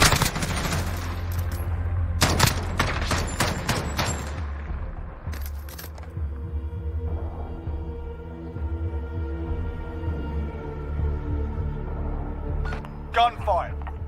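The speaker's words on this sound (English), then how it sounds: "Gunfire." Gunfire in the Call of Duty video game: rapid automatic bursts and single shots up front, then quieter rumbling game ambience with a voice speaking and a few sharp clicks near the end.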